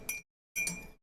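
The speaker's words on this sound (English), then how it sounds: "Sorry about the clinking, guys." A spoon clinks against a cup while stirring tea, two short bursts of bright, ringing clinks separated by a pause, close and clear with no talk.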